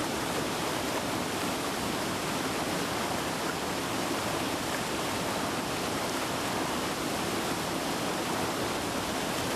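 River water rushes over rapids after the rains, making a steady, loud broadband roar that holds constant throughout with no voices.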